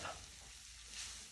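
Bell peppers and onions softening in a pan give off a steady, soft sizzle and crackle. The sound is fairly quiet and continuous, and nobody speaks.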